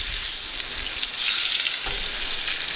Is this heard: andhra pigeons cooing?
no